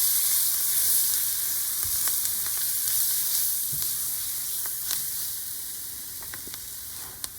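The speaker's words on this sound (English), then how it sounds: "Okay, so the onions are ready, and we're gonna add in our flour. And we're gonna stir this up." Flour stirred into frying onions in a pan for Dutch bitterballen: a steady, close sizzle runs throughout, with light scraping and tapping of the utensil scattered over it and no voices.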